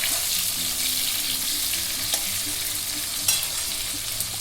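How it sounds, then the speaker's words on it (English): Chopped onion sautéing with whole spices in a pan, a steady loud sizzle running throughout, with occasional light stirring scrapes close up and no voices. "Saute the onion for 5 to 10 seconds."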